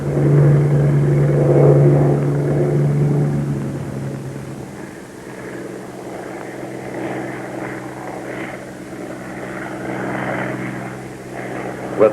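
A Bell P-39 fighter's engine drones steadily in flight, a loud continuous hum with a low tonal note that shifts slightly partway through, heard alone without voices.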